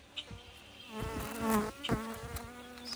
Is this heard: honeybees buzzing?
yes